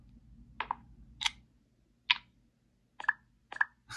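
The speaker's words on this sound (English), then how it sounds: "Screen locking sound." The screen locking sound of a RedMagic 9 Pro Plus phone: a series of short, crisp clicks and ticks, spaced irregularly over a few seconds, close and fairly soft with no voices.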